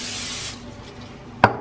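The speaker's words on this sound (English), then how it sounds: "We're going to spray that skillet first. I got some non-stick spray." Non-stick cooking spray hisses onto a skillet in one loud half-second burst, followed by a quiet lull and a single sharp click near the end.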